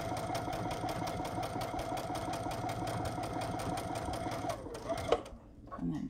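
A sewing machine stitches fabric in a fast, even mechanical rattle that runs steadily for several seconds at moderate level, then slows and stops with a brief clunk, leaving quieter background.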